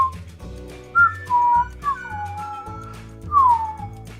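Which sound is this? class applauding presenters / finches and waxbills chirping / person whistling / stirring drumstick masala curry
person whistling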